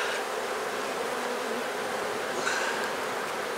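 A dense swarm of honey bees buzzes steadily during a beehive inspection, a close, continuous droning hum with occasional louder passes of individual bees near the listener.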